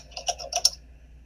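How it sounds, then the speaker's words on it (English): Names are typed on a computer keyboard as a short, close burst of a few quick key clicks that trail off into quiet. "I'm looking for Gary Brown, so I'm going to type in both names."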